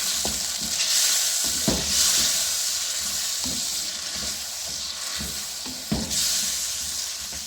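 Beef chana dal masala stirred in a hot pan with stock added, giving a loud continuous sizzle and hiss broken by repeated scraping stir strokes, close up.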